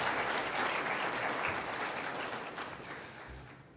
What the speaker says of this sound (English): I think all of you deserve a round of applause